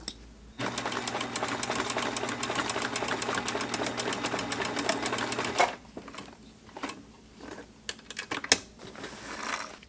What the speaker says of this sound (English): sewed it from the back side